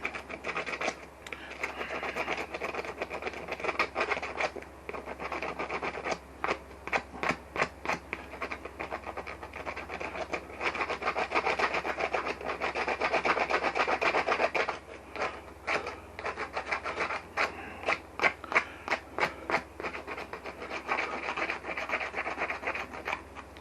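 Dry, raspy scraping across the hair side of a salted whitetail deer leg hide, with rapid repeated strokes in bursts, close and fairly quiet.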